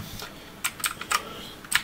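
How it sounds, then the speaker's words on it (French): Keys clatter on a Rii K61c mechanical keyboard in a short, uneven burst of crisp clicks, close and fairly loud against a quiet background. "au niveau des réactivités des touches, c'est vraiment excellent. Bah, c'est un clavier mécanique"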